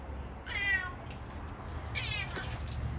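A house cat meows twice in an indoor room, each call a clear, rising-then-falling cry separated by about a second of quiet hum.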